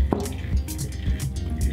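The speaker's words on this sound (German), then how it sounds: "Jetzt gießen wir das heiße Wasser ab." Hot water is poured off cooked pasta, giving a close, continuous splashing and gurgling pour with wet squishy drips, without talk over it.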